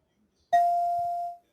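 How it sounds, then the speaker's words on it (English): On a talk show, a single bright bell tone sounds as a reward, clear and close, ringing for about a second before fading out. "There's that bell."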